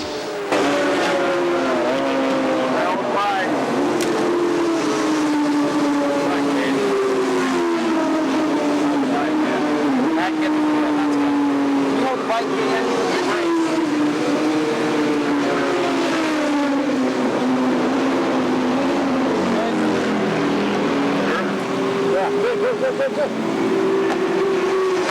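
A Suzuki endurance racing motorcycle from Carlisle Racing at a 24-hour race at Willow Springs Raceway, California, in 1999 drones steadily and loudly throughout, its engine pitch rising and falling continuously, with other race engines blending in.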